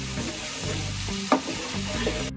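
Tomato paste sautés with spices and Kashmiri chili powder for a paneer masala, sizzling steadily up close while a utensil scrapes and stirs it with a few quick knocks.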